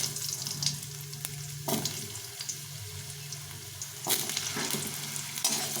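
Diced potatoes frying in a pan with cumin, cardamom and a bay leaf, giving a steady close sizzle under bursts of stirring and scraping, with no voices.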